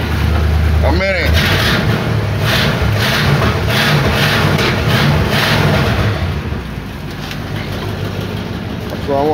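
A Chevrolet car engine runs steadily at idle for several seconds, loud and close, with a brief whistling chirp early on and the level dropping slightly near the end; a voice speaks over it.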